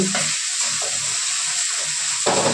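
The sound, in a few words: tomato frying in oil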